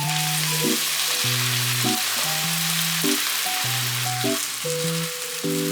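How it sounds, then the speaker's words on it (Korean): Noodles stir-fried in a pan with a splash of pasta water for zucchini pasta give a steady, close sizzle throughout, heard beneath continuous background music. "이제 면 넣고 볶으면서 면수도 추가해주고요"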